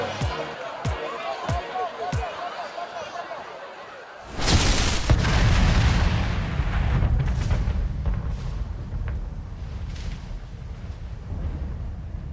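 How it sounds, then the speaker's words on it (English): A loud explosive blast bursts out at a Friday night high school football game, preceded by a few sharp thuds and followed by a long, roaring rumble that slowly fades under crowd noise and indistinct voices. "We promised you explosion, and explosion is exactly what you got."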